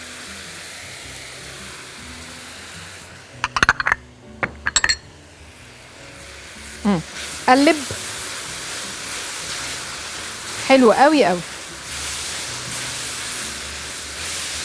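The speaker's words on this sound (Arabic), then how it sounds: "هذا التفاح يتكرمل هنا شويه" Apples caramelize with butter, cinnamon and sugar in a pan on the stove, giving a soft steady sizzle and hiss broken by sharp metallic utensil clinks, while someone speaks briefly in between.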